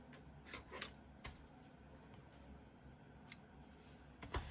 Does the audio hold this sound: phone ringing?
no